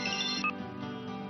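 A telephone ringtone sounds for an incoming call in a Marathi TV drama scene, a steady electronic melody played over soft background music, with no talking.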